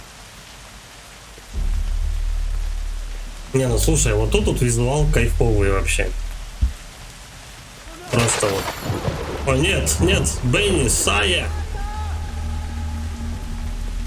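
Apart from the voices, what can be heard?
rain falling in a dark forest, video game Kena: Bridge of Spirits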